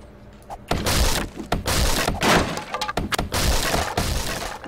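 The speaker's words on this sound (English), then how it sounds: "it's locked, so we gotta break down the door" In 7 Days to Die, a locked house door is being broken down: a rapid series of loud, heavy smashing and splintering impacts, one after another, with crashing debris and no talk over them.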